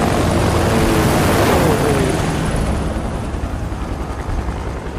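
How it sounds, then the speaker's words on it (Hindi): A helicopter in the video game Far Cry 6 makes a heavy rotor drone overhead, loud at first and slowly fading, with faint voices underneath. "हेलीकॉप्टर वगैरह सब भेज दिया गाइस"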